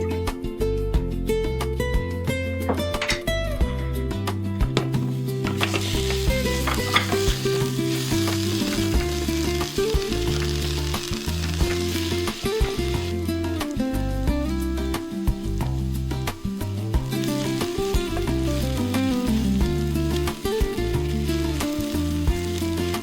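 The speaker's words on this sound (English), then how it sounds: "Once the oil is hot, I add the onions and let them cook until soft and lightly golden." Onions sautéing in hot avocado oil inside a Ninja Foodi, a steady close sizzle and crackle running unbroken over a low appliance hum, with occasional stirring.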